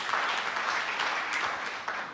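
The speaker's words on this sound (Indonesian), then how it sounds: "Tepuk tangan yang meriah bagi Tuhan Yesus." A congregation claps throughout a church service, a dense, steady patter of many hands that stays loud and even from start to finish, with no speech over it.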